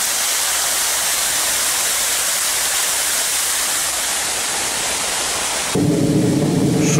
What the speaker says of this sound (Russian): шум падающей воды